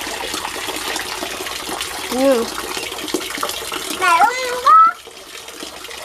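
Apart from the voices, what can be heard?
water running from a tap during a children's ball bath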